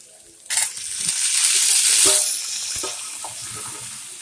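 Tomatoes stirred into browned, softened onions in a frying pan for karela bhaji, giving a loud, steady sizzle that swells after a sudden start and then settles, with faint scraping of the spoon.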